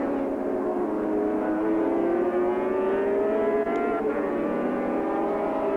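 Racing motorcycle accelerating hard on the Calder track in the 1983 Swann Series, a loud, close engine howl rising steadily in pitch as it climbs through the gears, heard alone.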